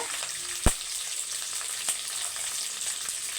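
Garlic cloves and ginger sizzle steadily in a hot pan, a constant hiss with a sharp knock early on and a softer tap later, no voices.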